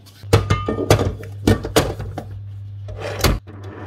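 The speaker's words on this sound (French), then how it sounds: "Allez, on va mixer tout ça au robot." A food processor mixes cookie dough of sugar, salt and vanilla sugar for chocolate spritz biscuits, giving a steady low motor hum with repeated loud thunks and knocks as the dough is thrown around the bowl.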